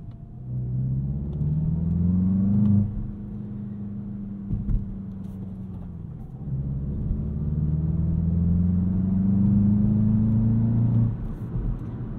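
A 2022 Volkswagen Jetta GLI engine revs up and down in long rising and falling sweeps, a deep rumbling drone close by, with a brief dip midway and no talking.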